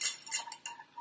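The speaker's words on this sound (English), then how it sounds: "So just give that a whisk" A whisk clinks and taps against a cup while mixing pumpkin spice latte with cloves and cinnamon, a few quick light metallic strikes close by with no talking.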